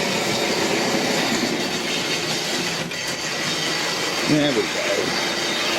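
A Graham Farish Formo three-rail OO model train pulling Dublo wagons, three tank wagons and a brake van rumbles steadily around the track with continuous clattering and faint wheel squeal, while someone speaks briefly over it.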